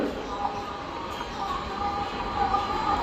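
A Holi special passenger train from Madhubani to Sealdah runs at Belgharia, with a steady rumble and wheel noise from onboard and faint voices in the background.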